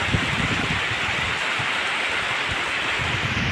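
Heavy rain pouring over green countryside beside rice fields, a steady loud wash of falling water with no break and no voices.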